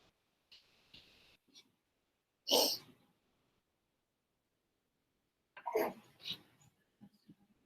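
Two sharp sneezes break an otherwise quiet room, a few seconds apart, with faint small clicks and a breath between them.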